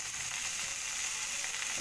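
Tomatoes fry with a little salt in a pan, giving a steady, even sizzle that holds at the same level throughout with no voices.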